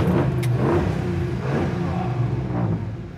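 A 1964 Chevrolet Impala's V8 rumbles steadily close by with a deep low throb and mild revving swells, continuous and without talk.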